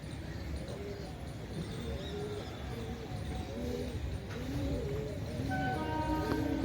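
Pigeons being trained for a flying tournament on a rooftop coo in a low, repeated burbling chorus that rises and falls continuously, fairly close, with a few higher chirps toward the end.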